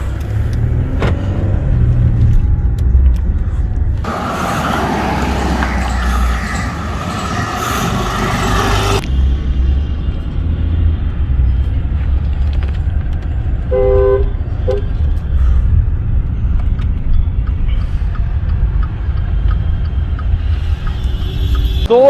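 Maserati Ghibli driving on the road, a steady close engine and road rumble throughout, with a loud burst of broadband wind or passing-traffic noise midway and a short horn-like tone later.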